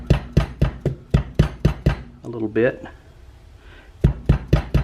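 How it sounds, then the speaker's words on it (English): A small dead blow hammer taps out the front sight of a Smith & Wesson Model 686 revolver, giving sharp close knocks in quick steady runs, separated by a pause where someone speaks briefly. "This is a little dead blow hammer"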